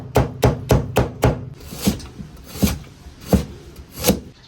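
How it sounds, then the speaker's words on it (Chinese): A kitchen knife chops scallion and ginger on a wooden cutting board: a quick run of five sharp knocks, then slower, evenly spaced strikes, close and crisp with no voices. "切点葱姜"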